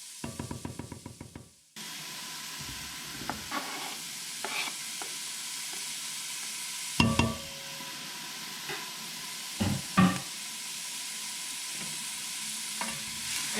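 Chopped onions sizzle steadily in a pan for chili, a continuous hiss broken by occasional clattering stirs and scrapes, with sharp knife chops on a board heard briefly at the start.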